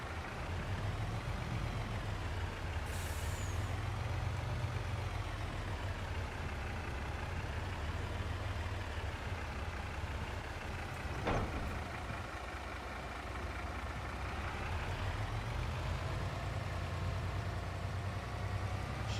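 A truck engine in Farming Simulator 22 idling and rumbling at close range, a steady low drone with slight rises in pitch and one brief click midway.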